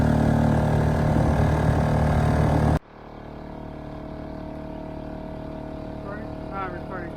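A boat with a freshly cleaned bottom cruises smoothly under engine power, a loud, steady motor drone that abruptly drops to a quieter, even hum partway through.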